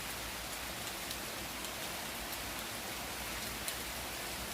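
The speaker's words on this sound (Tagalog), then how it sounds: "ah malakas nga yung ulan" Heavy rain pours steadily, a dense even hiss of drops with no pauses and no voices.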